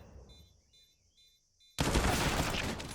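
Gunfire in Counter-Strike: Global Offensive during a pro match, a few faint clicks and pings giving way abruptly to a loud, dense burst of rapid automatic fire.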